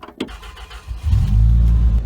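A diesel dually pickup truck on a farm starts up after a faint click or two, its engine settling into a loud, steady low rumble close by.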